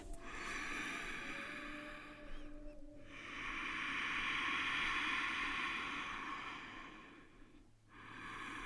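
Slow, audible breathing during a Hatha yoga session, with long airy inhales and exhales rising and falling over several seconds, close and fairly quiet, with no talking.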